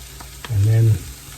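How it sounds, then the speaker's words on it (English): Queso blanco sauce is stirred into sizzling steak in a pan: a soft frying hiss with light clicks, then a loud, low, humming scrape for about half a second as the spoon works through, then the hiss again. "it's just queso blanco sauce, and it's gonna go right in there. We're gonna mix it in."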